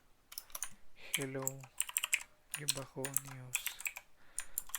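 Computer keyboard keys click quickly as an application name is typed while setting up a NIOS II soft-processor project for an FPGA. The rapid tapping sits under ongoing speech.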